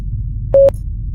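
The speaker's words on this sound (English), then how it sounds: "Morse code." A single steady electronic tone of about a sixth of a second, like one Morse code beep, sounds once in the Cold War horror game First Winter, clear and alone over a low background hum.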